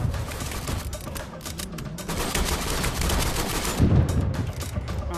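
Rapid machine gun fire in a multiplayer VR zombie shooter on Quest 3, dense rattling bursts continuing throughout with a heavier thump near the end, close and fairly loud.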